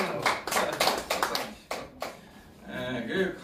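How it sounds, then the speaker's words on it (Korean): An audience at a forum claps in a brief burst of several irregular hand claps, close and moderate in volume, then fades as voices and other speech take over. "워라벨 리퍼블릭 위해서 박수 한번 더 칩시다"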